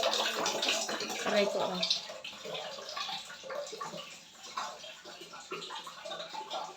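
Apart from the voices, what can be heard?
bucket being filled with water from a tap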